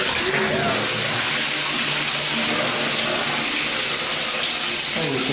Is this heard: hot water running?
yes